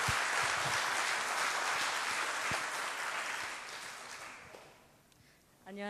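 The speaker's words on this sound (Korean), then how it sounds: "박수." A church congregation at a new-family blessing service applauds with dense, sustained clapping that fades toward the end, just before a voice begins.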